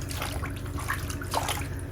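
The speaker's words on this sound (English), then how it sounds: "And now the bigger pieces are going in the bath." Larger clothing items drop into a bath already filled with water to soak, making continuous sloshing and splashing with a few brief, sharper splashes.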